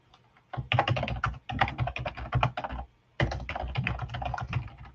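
Someone typing on a computer keyboard during a live online question-and-answer session: quick bursts of clattering keystrokes broken by two short pauses, close and clear, with no talking.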